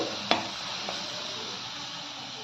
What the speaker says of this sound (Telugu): కొంచెం ఆయిల్ వదిలేదాకా మనం వేగనిద్దామండి